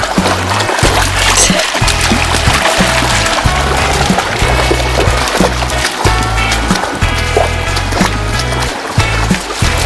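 Water splashes and sloshes loudly with rhythmic, heavy steps as a person wades across a shallow river in the Utah desert, each stride churning water close up.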